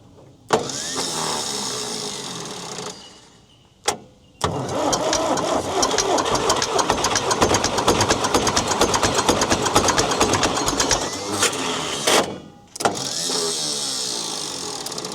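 An old abandoned V4 diesel engine with a worn starter cranks and catches, then idles with a steady, rapid chugging and a slight knock, cutting out briefly and restarting, loud and close.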